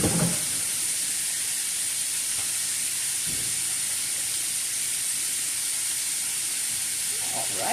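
Thin-sliced Philly cheesesteak meat sizzling in a big pan, a steady loud broadband hiss of frying throughout, with a few faint clatters near the start and end.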